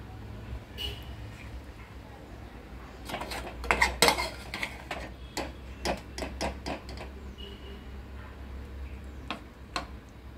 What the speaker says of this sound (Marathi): आता आपण हे प्लेटमध्ये घेऊया